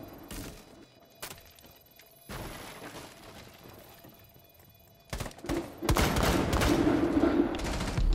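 Bursts of gunfire ring out in a first-person shooter bomb-defusal match: sharp separate shots and thuds early on, then a denser, louder stretch of rapid fire near the end, with almost no talk.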